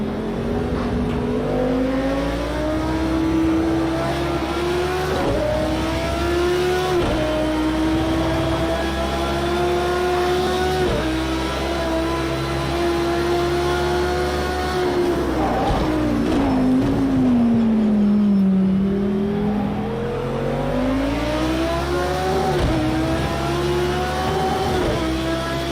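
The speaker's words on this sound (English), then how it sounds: "This car does sound amazing though" A race car engine drones steadily and loudly, its pitch rising and falling through gear changes, with no talking over it.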